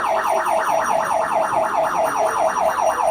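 A loud, continuous siren wails with a fast, steady up-and-down warble, repeating evenly throughout with no voices.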